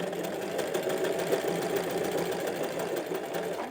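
Usha sewing machine running steadily while stitching a buttonhole, a continuous close mechanical whir with fast rhythmic needle clatter throughout and no pauses.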